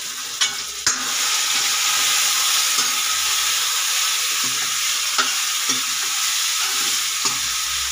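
Ginger, cashews and almonds sizzle loudly in oil in a frying pan, a dense steady hiss broken by occasional stirring clinks.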